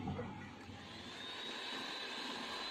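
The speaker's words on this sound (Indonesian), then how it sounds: "Selanjutnya ini di mixer menggunakan kecepatan paling tinggi" Electric mixer whirring at top speed as it beats two egg whites in a bowl for a butter sponge cake, a steady high-pitched drone that stays even throughout.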